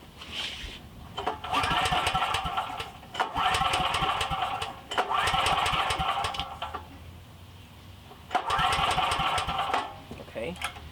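A Briggs & Stratton emergency power generator engine is pulled to start, sputtering to life in four loud, rough bursts separated by short pauses, with voices at times.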